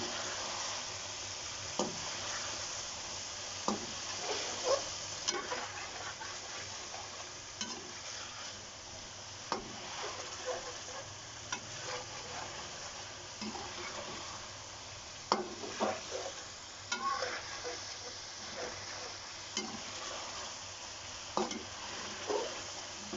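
Chicken biryani masala frying on high heat, with a steady close sizzle and repeated clinks and scrapes of a spoon stirring in the pan throughout.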